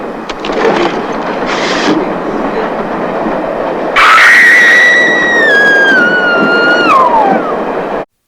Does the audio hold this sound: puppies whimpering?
no